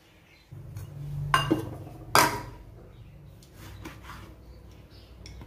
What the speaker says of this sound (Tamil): இப்போ கொஞ்சம் லைட்டாக வந்து இதை மூடி வச்சிடலாம்.